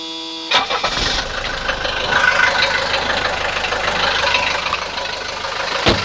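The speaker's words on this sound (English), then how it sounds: "the next thing to do is just start the car" A 1983 Mercedes 240D diesel engine cranks briefly and fires, then settles into a steady, loud, rattling diesel idle close by that runs to the end.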